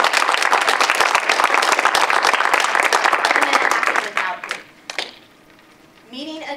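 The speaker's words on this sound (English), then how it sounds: "Everyone give him a round of applause." Audience applause at a Toastmasters club meeting, a dense, loud burst of many hands clapping for about four seconds, then thinning into scattered claps and fading as a voice begins to speak.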